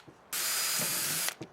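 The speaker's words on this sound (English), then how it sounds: "I'm going to put some screws in over here" A power driver spins a screw into wooden trim in a single steady burst of about a second, close and fairly quiet, with faint knocks just before and after.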